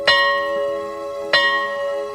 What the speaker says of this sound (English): Godfrey gave the bell a huge bang.